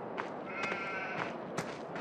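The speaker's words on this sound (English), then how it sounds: "That is a loud sheep." A sheep bleats in the farming game Farming Simulator 2013, one drawn-out tonal call amid softer scattered clicks and a low ambient bed, faint and fairly close.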